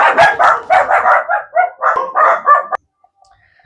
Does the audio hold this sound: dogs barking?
yes